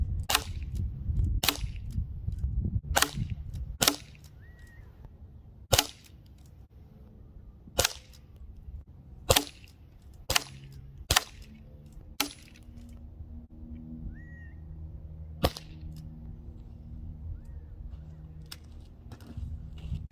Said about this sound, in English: and then we'll take a few shots